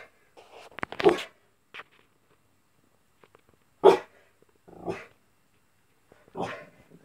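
A dog indoors gives a few separate barks and short growls, loud and close, spaced out over several seconds with quiet gaps between them.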